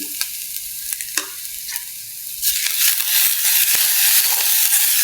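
Kohila mallum with turmeric powder and salt fries in a pan, hissing and sizzling up close as a spoon stirs with light scrapes, the sizzle swelling louder and fuller partway through.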